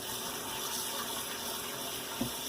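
Water runs steadily from a kitchen tap over strained canned corn in a metal bowl, a continuous close hiss of rinsing with a brief clink near the end.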